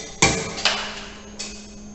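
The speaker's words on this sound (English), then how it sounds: "It's already struck the material and specimen get failed." Charpy impact tester's pendulum hammer striking and breaking a test specimen: a sharp metallic crack, then a second knock and a fainter third, over a steady low machine hum, with no talk.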